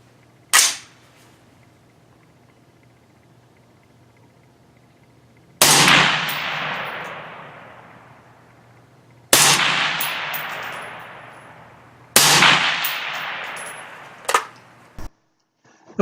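Four loud rifle shots from a BCM 16 LWE rifle fitted with a Leupold VX-R 3-9 scope crack out at irregular intervals, each followed by a long ringing decay outdoors, with a small metallic clack near the end.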